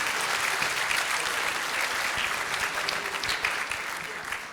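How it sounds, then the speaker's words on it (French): Graduation ceremony audience applauding after a presentation of the alumni network, a steady, full wash of clapping from a large crowd, sustained throughout and slightly tapering at the end, heard from a moderate distance. "On peut l'applaudir pour cette présentation du réseau alumni."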